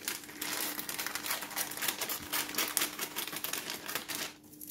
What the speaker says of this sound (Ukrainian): Манікюрними ножицями відрізаємо.